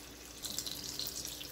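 Lentil batter fritters dropped into hot oil for Lahori-style lado pethi, giving a soft, faint bubbling hiss that rises after a quiet start and continues steadily without talk.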